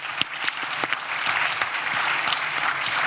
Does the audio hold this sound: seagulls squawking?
no